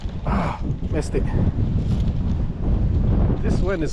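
Strong wind buffets the microphone on a lakeshore during white bass fishing before a storm, producing a constant low rumbling roar, with a voice talking over it.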